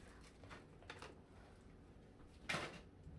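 A door cracked open during a home hair-dyeing session, a single clear knock or latch click near the end standing out from low room noise after a few faint earlier bumps.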